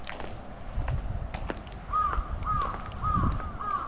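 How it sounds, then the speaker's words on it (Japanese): A crow caws four times in a steady rhythm, at a moderate distance, over quiet outdoor ambience by a clear spring-fed stream in a Shiga town. "カラス鳴いてるわ"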